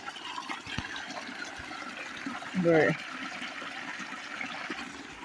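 Irrigation water flows and gushes into a lemon orchard on a farm: a steady outdoor rush of water with one brief louder surge midway.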